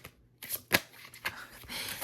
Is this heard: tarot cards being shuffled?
yes